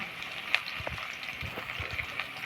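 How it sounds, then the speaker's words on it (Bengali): Potatoes fry in hot oil in a home kitchen, a soft continuous sizzle with occasional pops and stirring scrapes, quiet and close, no voices. "চলুন আলুগুলো ভেজে নিই তারপরে আবার দেখাচ্ছি"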